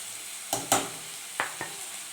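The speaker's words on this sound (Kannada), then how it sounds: "ನಾವು ತೊಳೆದಿರೋಂಥ ಮೆಂತ್ಯ ಸೊಪ್ಪನ್ನ ಫ್ರೈ ಮಾಡ್ಕೊಳ್ಳಿ" Washed fenugreek leaves fry in a pan for methi dal over a soft, steady sizzle, broken by a few sharp stirring scrapes close by.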